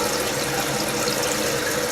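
Water steadily refilling a newly installed toilet tank through a stuck-open fill valve, a continuous close hiss and rush with no pauses or talk.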